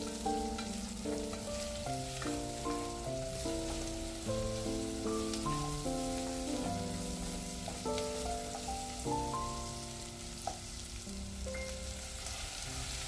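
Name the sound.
potatoes and onions frying in oil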